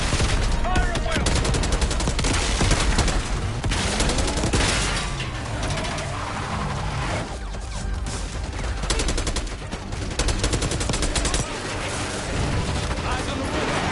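Dense gunfire rattles through a Black Ops 6 campaign battle at a palace gate, with bursts of automatic fire and explosions layered over shouted voices and a dramatic backdrop.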